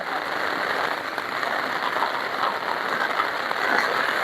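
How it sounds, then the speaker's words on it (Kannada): Steady rain pours down in a dense, even hiss, close by and unbroken throughout, in Haveri district, Karnataka, India. "ನೋಡ್ರಿ ಹೀಗೈತು ಮಳೆ"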